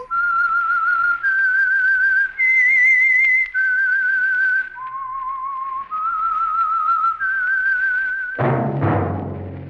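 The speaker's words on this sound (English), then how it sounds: "That whistle is your signal for the Signal Oil program, The Whistler." A lone melodic whistled theme signalling The Whistler radio drama, a series of clear sustained pitched phrases shifting up and down, close and loud, ending abruptly as a burst of orchestral music takes over.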